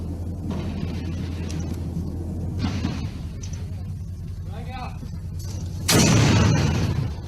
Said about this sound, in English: Explosions, and then some gunshots.